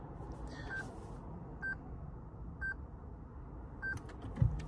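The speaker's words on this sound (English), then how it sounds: "This will flash and beep 5 times." Four short electronic beeps spaced about a second apart from a Ghost 2 immobiliser in a 2023 Lexus ES300h, clear over a low steady hum.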